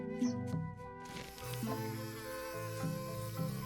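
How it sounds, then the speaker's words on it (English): Bees buzzing in the adventure game Return to Monkey Island, a steady insect drone layered over sustained tonal game music, moderately loud and continuous. "Those are some big fat bees."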